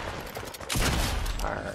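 Grenade blasts and gunfire in a video game: a sudden loud burst of explosive crackle and shots after a quieter moment, continuing as a dense, rough rumble.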